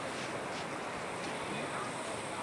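Steady broadband roar of ocean surf and wind on a Greek beach ringed by mountains, a continuous rushing wash with gusty microphone buffeting and no clear talk.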